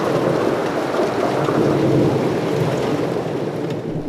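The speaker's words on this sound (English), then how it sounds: "During a storm, when you see lightning" A thunderstorm with a continuous broad roar of heavy rain and deep rumbling thunder, steady and loud throughout with no voices.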